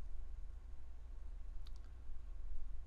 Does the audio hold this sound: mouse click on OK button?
yes